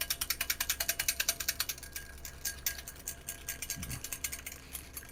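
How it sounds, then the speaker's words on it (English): A whisk clicks rapidly and rhythmically against a bowl while homemade mayonnaise is beaten with oil, with steady close strokes that slow and loosen partway through. "I'm just going to keep whisking."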